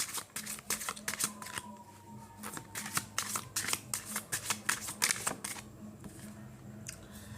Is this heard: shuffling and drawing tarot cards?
yes